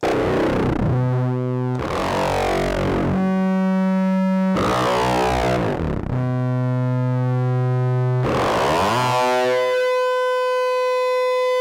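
A Doom modular synthesizer run through an echo pedal plays sustained, buzzing tones in repeating bursts, each with sweeping chirps and smeared echoes that ring on into the gaps.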